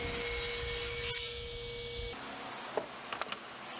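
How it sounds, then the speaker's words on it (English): A table saw with its blade tilted rips a thin, tapered wood strip held against the fence by a feather board: a steady, fairly loud cutting whine for about two seconds that stops abruptly, followed by a few light clicks. "I tilted my table saw blade to cut a strip that was 1/8 inch thick at one side to zero on the other"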